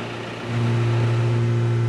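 A Honda Civic Type R engine idles, then rises to a steady, louder drone about halfway through and holds that pitch without dropping back.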